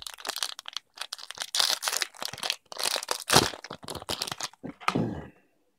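A Fellowship of the Ring trading card pack is ripped open by hand, giving a run of close, sharp crackling and crinkling foil-wrapper tears with brief pauses, ending in a final rip before falling quiet.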